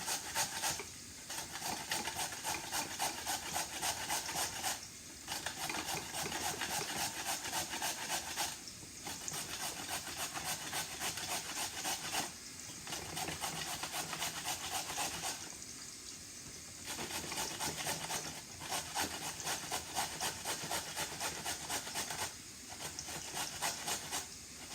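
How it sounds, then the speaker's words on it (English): A carrot being grated by hand for spinach rice with okra and chicken, a steady rasping scrape in repeated bursts of several seconds, broken by short pauses, close and fairly loud with no talking. "now you're going to get the carrot and grate it"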